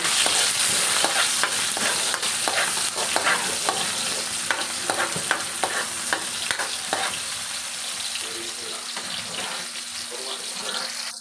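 Tomato being stirred into a frying pan, loud close sizzling with repeated sharp scrapes and taps of the spoon that ease off toward the end.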